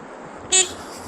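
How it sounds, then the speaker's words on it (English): A single short car horn toot sounds close by on a New York City street, standing out briefly above low traffic background noise. "Protesters, you gotta give them that honky honk support."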